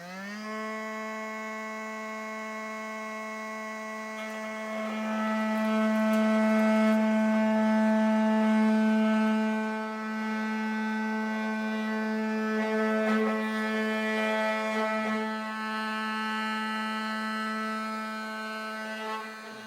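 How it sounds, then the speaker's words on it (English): An oscillating multi-tool cuts out a trailer hitch opening on a 2017 Volvo, giving a steady, droning buzz with a strong tonal whine that swells louder midway and then eases, with no talking. "I have a multi-tool, multi-cutter handy, so I'll just get that going now"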